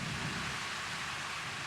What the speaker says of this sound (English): Oh, just thunder.